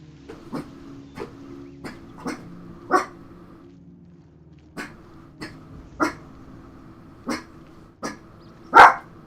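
A dog barks about a dozen times in short, sharp, evenly spaced bursts, close and fairly loud, with quiet gaps between barks and no talking.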